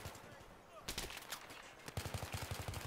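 Short bursts of automatic gunfire crack repeatedly in a team deathmatch video game, rapid and fairly close, with a quieter stretch before louder volleys that continue to the end.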